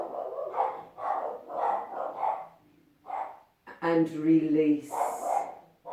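A voice speaks calmly, then a dog barks a couple of times nearby over the talk.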